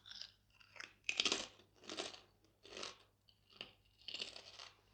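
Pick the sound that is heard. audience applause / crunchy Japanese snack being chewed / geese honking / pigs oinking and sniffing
crunchy Japanese snack being chewed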